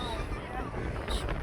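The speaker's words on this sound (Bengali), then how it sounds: "বাতাস আর বাতাস" Wind gusting across an open place under open sky, a steady close rush buffeting the microphone for the whole moment, with a voice partly under it.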